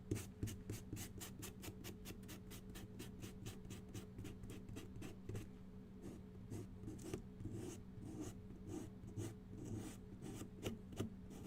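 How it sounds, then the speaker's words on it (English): Sandpaper rubbing back and forth across a wooden cabinet top, a close, steady rasping with quick repeated strokes at first, then slower, more spaced passes. "Let me get my sandpaper."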